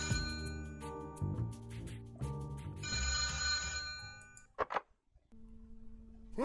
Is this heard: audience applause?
no